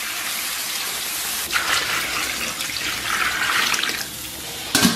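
Water is poured into a cooking pot holding pig trotters and spices for braising, a loud continuous gushing stream that shifts in tone and briefly surges near the end.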